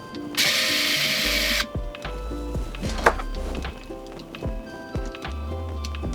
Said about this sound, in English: So go ahead and unscrew this.